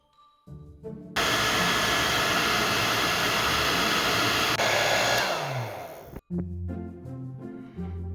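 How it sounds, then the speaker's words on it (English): A hair dryer roars on loudly and blows steadily for about five seconds, softening a Godzilla x Kong toy figure, then cuts off abruptly; soft music plays before and after. "gonna have to get out the trusty hairdryer to loosen this bad boy up"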